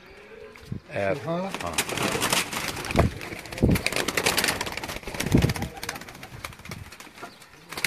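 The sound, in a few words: pigeons cooing and flapping wings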